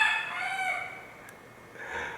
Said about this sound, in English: Trying to get the cock-a-doodle-doo.